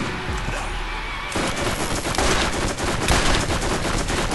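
Rapid SMG gunfire in the Borderlands video game, a loud dense burst of automatic shots that starts after a second of background noise and continues to the end.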